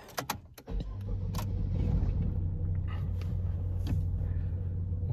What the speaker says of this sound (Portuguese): Eu vou mostrar pra vocês o carro funcionando aí.